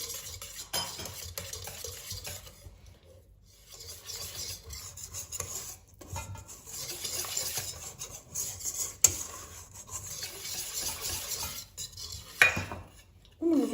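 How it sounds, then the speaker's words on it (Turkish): Flour, salt and oil being stirred together for pide dough, a soft continuous rasping scrape that rises and falls in bursts with brief pauses, close and fairly quiet, with no talking. "Şimdi bunları güzelce karıştırıyorum."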